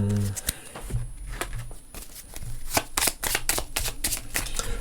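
Oracle cards are shuffled for a yes-no reading, giving a quick run of crisp riffling and slapping card sounds close by after a brief pause.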